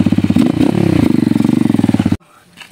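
A motorcycle engine fitted with a racing CDI revs hard up close, a loud pulsing buzz with a quick rise in pitch that holds for about two seconds before abruptly cutting out, leaving a brief faint clatter.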